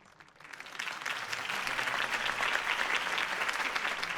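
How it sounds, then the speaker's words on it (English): Applause rises from a crowd in Batman: The Telltale Series, swelling from silence into steady, dense clapping that holds at a moderate level. "If only Mr. Wayne, my campaign's largest backer, could have heard that applause"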